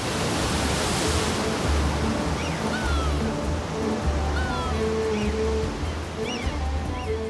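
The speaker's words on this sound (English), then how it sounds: "against the force of the breaking waves" Ocean waves break steadily on a beach where sea turtles gather offshore, a continuous loud roar of surf and wash with no clear pauses, close and filling the whole scene.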